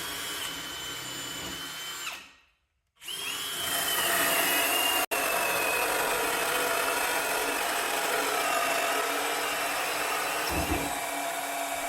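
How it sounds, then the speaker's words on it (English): Cordless drill spinning a 2-inch hole saw through 1-inch pine, a steady whining drone with a brief stop in the middle before cutting resumes. "To test speed 2 in a more real-world application, I use a 2-inch hole saw through 1-inch pine."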